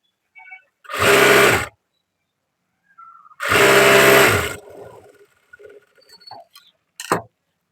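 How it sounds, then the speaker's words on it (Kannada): A sewing machine stitching blouse lining cloth runs in two loud, close bursts of about half a second and one second, followed by softer clicks and handling noises. "ಆ ತರ ಒಂದು ಹೊಲಿಗೆ ಹಾಕ್ರಿ."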